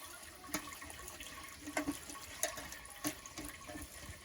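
Boiled chow mein noodles being rinsed under cold running tap water in a kitchen sink, a faint steady splashing trickle with a few soft louder splashes.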